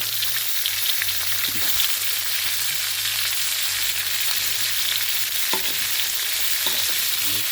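Bean sprouts and tofu stir-fry in a hot pan, a steady broadband sizzle running throughout with a low hum beneath and a few soft scraping stirs near the end.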